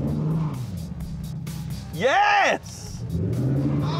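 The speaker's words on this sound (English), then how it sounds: "let's hear what that new exhaust sounds like" A Ford XR8 engine revs hard through a new exhaust for about half a second, rising and falling in pitch, between stretches of lower rumbling and talk; a voice exclaims briefly.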